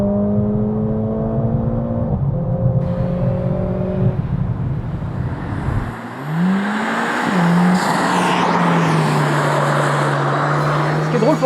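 Mercedes-AMG A45 S turbocharged engine revving hard at high rpm on a track, a loud rising and falling drone with gear changes and a steady high-rpm roar close to the microphone.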